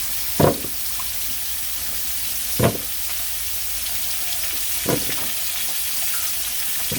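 Food fries in hot oil with a steady, fairly quiet sizzle throughout, broken by three brief louder bursts as ingredients are stirred or added.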